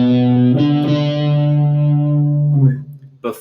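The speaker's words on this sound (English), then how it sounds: "try and play the arpeggio on a single string so you can hear what it should sound like" Electric guitar arpeggio picked on a single string, distorted and effected, with sustained ringing notes and a couple of fresh attacks over about three seconds, close and loud, ending with brief pick noise.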